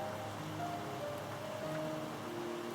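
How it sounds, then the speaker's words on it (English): Gentle, constant rain patters steadily on rooftops at night, a soft, even wash of sound with faint tonal hum underneath and no voices. "rest easy under the constant, gentle percussion of rain on their roofs"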